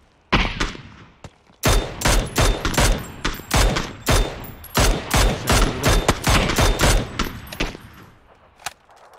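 Rapid gunfire in PUBG during squad play on the Miramar map, loud bursts of closely spaced shots in quick strings with short pauses, the volleys landing near and sharp with no talk over them.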